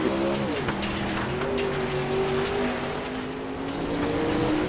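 Dirt late model race cars circle the track at Fairbury, their engines roaring at a steady drone that dips once and holds, loud and continuous with no voices.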